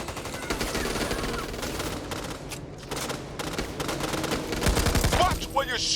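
Rapid automatic gunfire from the co-op zombie shooter Back 4 Blood, sustained bursts running nearly throughout with a heavier flurry near the end, loud and busy, with a brief lull in the middle and some voice mixed in.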